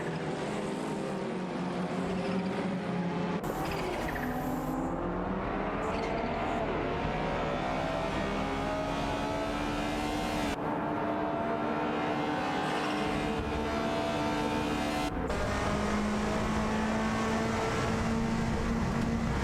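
Race cars in a racing video game roaring down the straight side by side, steady overlapping engine drones with rising and falling pitch as cars shift gears, several engines audible at once, loud and continuous.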